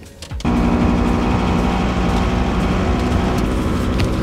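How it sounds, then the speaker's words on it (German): A van runs at steady speed on the road, its engine and road noise a continuous loud drone that starts abruptly after a brief quieter moment and holds even throughout, with no talking. "ich fahre da mit dem Auto hin"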